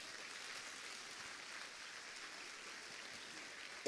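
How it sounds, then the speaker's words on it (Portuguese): A church congregation applauds in a steady, fairly faint wash of many hands clapping. The sound holds evenly throughout and ends in a sudden louder burst. "Eu queria que você aplaudisse a Deus"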